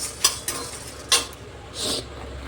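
Whole coriander seeds roast in a pan with fried dried red chillies for raw mango pickle: a few sharp clinks of a utensil against the pan, a brief scraping stir and a soft sizzle, with no talk.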